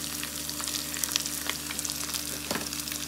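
Onion fries in a pan for adobong sitaw with tomatoes, a steady sizzle and crackle dotted with sharp pops and a spatula scrape, moderately close, with no talking.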